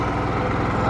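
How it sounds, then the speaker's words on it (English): An AI-Power 8000 watt inverter generator runs close by with a steady, loud, pulsing engine drone and no talk over it. "Turn the generator off."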